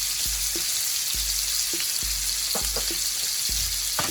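The white part of a green onion cooking in a hot pan for pork lo mein gives a constant loud sizzle, with a few light knocks and clinks of utensils repeating every second or so.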